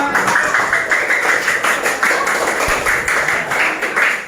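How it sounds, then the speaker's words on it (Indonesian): Many children in a class clap their hands together in a rhythmic, fairly loud burst that continues steadily for several seconds. "tepuk tangan semuanya."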